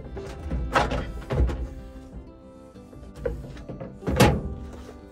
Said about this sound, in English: we should be able to pull this panel up, push it in slightly, and work it up out of there